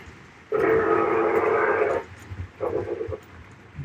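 A steam locomotive whistle in a train simulator game sounds one long, loud steady blast lasting about a second and a half, followed by a shorter second toot.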